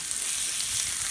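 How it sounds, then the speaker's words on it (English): Smash burgers and onion slices sizzle on a hot griddle, a steady, bright frying hiss that stays close and even throughout. "only cooking three at a time has given me room to start with the onion slices on the edges here"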